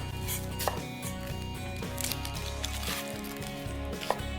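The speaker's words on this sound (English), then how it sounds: "Now let's get our onion cut up." A knife cuts through an onion on a board, faint and close, with a series of soft irregular chops and a couple of sharper knocks against the surface.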